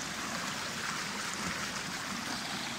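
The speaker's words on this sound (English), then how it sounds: "It's basically just a big plunger that sucks water up from here." Water sloshes and rushes steadily through a homemade waterwheel-powered bucket plunger pump, a continuous close gurgling wash with no clear strokes standing out.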